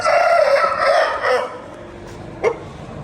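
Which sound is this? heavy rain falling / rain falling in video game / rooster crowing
rooster crowing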